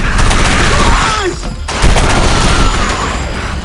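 Rapid automatic gunfire from the 2005 shooter Area 51 rattles loudly in sustained bursts, with a brief pause midway before the firing resumes, dense and booming throughout.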